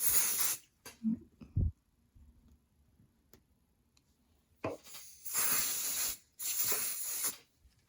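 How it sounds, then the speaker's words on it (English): Short hissing bursts from a spray bottle misting liquid around the edges of a towel before embroidery, a few separate sprays with quiet pauses and some small handling clicks between them. "So I just spray a little bit around the edges."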